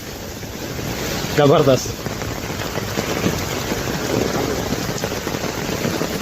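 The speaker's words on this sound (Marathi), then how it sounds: "काय पाऊस पडतोय" Heavy monsoon rain pouring down in Mumbai, a dense, continuous outdoor roar that is loud and constant throughout, with a man briefly exclaiming over it.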